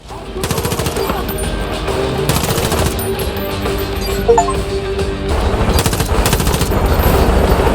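Assault rifle fire in Far Cry New Dawn, loud repeated bursts of rapid shots with pauses between them over a dense game soundscape.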